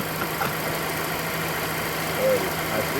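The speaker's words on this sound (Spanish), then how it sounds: "el sonido del vehículo, escuchen" A Mazda Demio's engine idling after a tensioner replacement, a steady low hum with a faint whine, held evenly for a few seconds.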